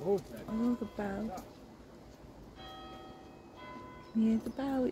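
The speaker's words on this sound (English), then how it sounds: "Can you hear the bell? It's 12 o'clock, guys. It's going to bing 12 times." A church bell strikes twelve o'clock near Jubilee Park in Middleton, UK. A clear, sustained ringing tone sounds mid-clip, set between stretches of people talking.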